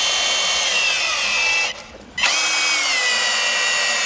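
A loud power drill whines close by as it drives a pan-head screw into wood, steady high motor pitch that halts briefly, then restarts with a rising whine.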